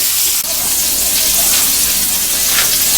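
Seasoned fish pieces searing in a skillet on the stove give off a steady, close, bright sizzle that holds evenly throughout, with no talking.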